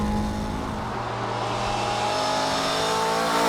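A Honda S600's small high-revving engine screams while driving, a loud, sustained buzzing rev that climbs steadily from inside the car, with no talk over it.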